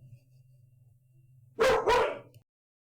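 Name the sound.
dog barking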